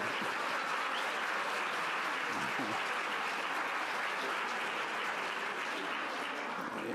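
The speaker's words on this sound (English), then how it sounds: "give me an applause at the same time" A roomful of people at a public education forum at Hobart & William Smith Colleges applauds steadily, a continuous dense patter of many hands; a voice briefly speaks over it.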